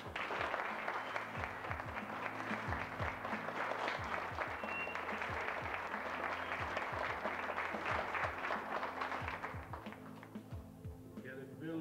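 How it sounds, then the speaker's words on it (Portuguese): Sustained applause from an audience for artists at a cultural production event, with dense, continuous clapping and crowd noise that fades slightly near the end. "Então eu queria um aplauso para os artistas."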